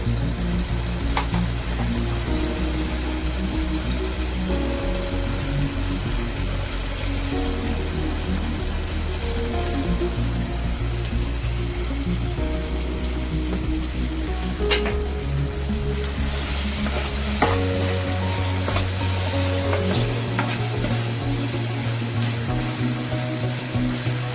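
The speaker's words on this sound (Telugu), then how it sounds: "కొంచెం పచ్చివాసన పోయేంత వరకు వేగించుకుందాం" Ground spices such as coriander powder, garam masala and cumin powder frying in a pan for palak paneer curry, a steady close sizzle running throughout with no talk.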